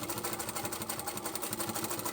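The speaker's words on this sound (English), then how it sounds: "Triple stitch over that." A sewing machine triple-stitches the top edge of a fabric book bag with a fast, even mechanical whirr and rhythmic needle chatter, close and steady throughout.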